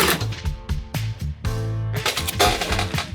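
A sewing machine with a binder attachment stitches bag panels for a bicycle frame bag in short, loud, rapid bursts of mechanical clatter, separated by brief pauses and ending in a longer continuous run.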